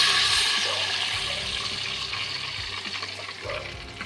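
About 600 ml of water pours into hot oil in a cooker, a steady loud rush and hiss that slowly eases over a few seconds.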